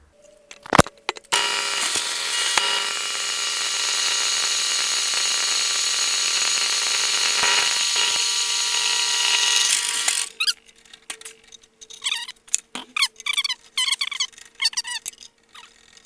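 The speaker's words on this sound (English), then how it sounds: "got to drill a hole in this manifold for a thermocouple" Power drill boring a hole into a Caterpillar C15 exhaust manifold for a thermocouple, a loud sustained high-pitched whine lasting about ten seconds, then stopping and giving way to scattered metallic clicks and handling sounds.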